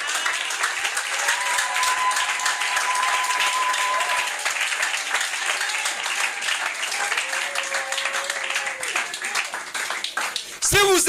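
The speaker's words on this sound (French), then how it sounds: "Est-ce que vous pouvez les acclamer?" A church congregation applauding and cheering for a couple in a broad, steady wash of clapping that holds for about ten seconds, with a louder burst near the end.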